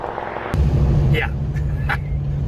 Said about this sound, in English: this thing's getting some speed up real quick